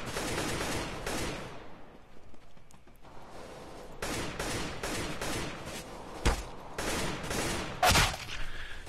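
Repeated bursts of gunfire from a player shooting at an opponent in the video game CS:GO during a competitive match, loud and close, broken by brief pauses and a couple of sharper single shots.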